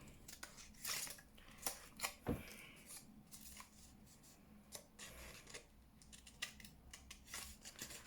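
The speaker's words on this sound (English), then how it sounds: "So if I try and fussy cut those bottom leaves out." Scissors snip paper leaves for a junk journal in short, quiet, irregular cuts close at hand, with small rustles of paper between the snips.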